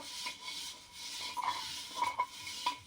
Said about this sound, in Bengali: তবুও আমি ভেতরটা ভালো করে ঘষে নিচ্ছি প্রথম ব্যবহার হচ্ছে বালি তো থাকে মাটির জিনিস